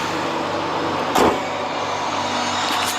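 A car with a check engine light and a rattling noise is driven, heard from inside the cabin as a steady, fairly loud road and engine rumble, with one brief louder thump partway through.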